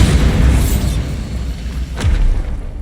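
The Bombardo spell in Hogwarts Legacy bursts with a loud, deep boom, followed by a rumbling roar and a second sharper blast partway through.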